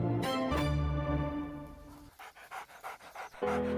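German Shepherd dog panting close up, a steady run of quick rhythmic breaths with a tonal whine early on, then short separate puffs toward the end.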